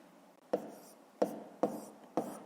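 A pen scratches out a math equation on paper in four quick, faint strokes, soft and close in a quiet room.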